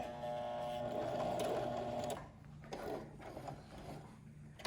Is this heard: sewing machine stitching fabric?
yes